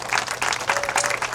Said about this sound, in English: please take another moment and give yourselves a round of applause